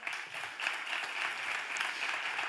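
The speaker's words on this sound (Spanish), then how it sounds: "Un fuerte aplauso para Fernando, por favor." An audience at a finance conference panel claps continuously, a broad wash of many hands at a steady moderate level with no voices over it.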